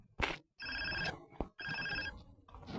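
Two bursts of a phone ringing in GTA San Andreas Definitive Edition, each about half a second long and clearly heard in the game, separated by short gaps with brief sharp game sounds in between.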